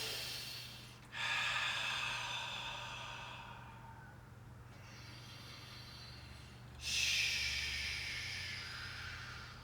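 Two long, deep breaths during a seated chair yoga session, each a breathy rush of air that swells and slowly fades, close and quiet, with a pause between them.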